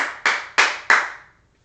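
Three sharp, distinct hand claps ring out close by at an even pace, each one decaying briefly before the next, then silence.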